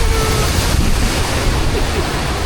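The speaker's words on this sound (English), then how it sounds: "For the waterfall" Water roars and splashes loudly and continuously around a rapids boat ride as it passes a waterfall at a theme park, a close, dense wash of spray and churning water with no talking.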